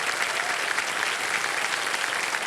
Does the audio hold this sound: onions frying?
no